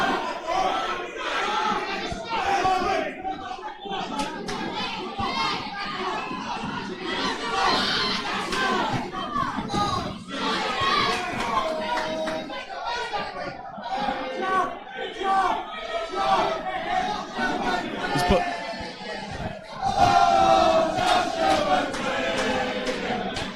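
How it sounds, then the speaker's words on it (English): A boxing crowd roars and shouts continuously through a bout between Josh Quailey and Phil Williams, a dense, loud wall of cheering voices that swells and peaks near the end. "the crowd are really enjoying this one"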